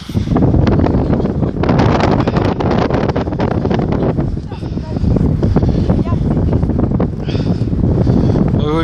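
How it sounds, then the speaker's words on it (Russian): Strong wind gusts buffet the microphone outdoors in a forest, a loud continuous rumbling roar with rustling that eases briefly midway, while a voice and other people speak faintly underneath. "тут ветер поднялся"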